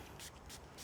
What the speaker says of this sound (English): You spray it directly on here and you let it sit for a bit.